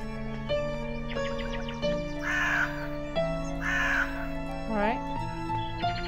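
Crows caw in the horror video game Midnight Scenes The Nanny, two loud harsh calls and a fainter third over a sustained eerie musical drone, alongside a person speaking.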